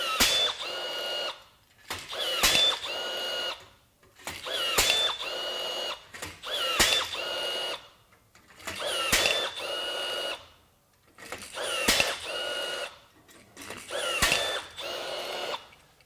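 A Milwaukee 2660 M18 FUEL cordless rivet gun sets steel rivets one after another, seven close whirring pulls in a steady rhythm with brief pauses between them, loud and alone without speech.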